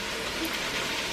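Water splashes and sizzles into a cast iron pan holding blended jarred salsa, a brief, steady hissing wash close by.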